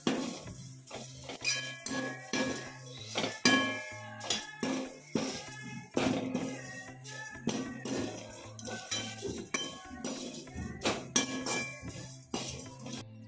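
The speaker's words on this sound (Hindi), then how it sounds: "अब हम चूड़ा डालेंगे, अच्छे से चलाएंगे इसे।" Flattened rice (chura) stirred in a pan for murmura namkeen, with repeated close metallic scrapes and clinks of a spoon against the pan in an uneven rhythm.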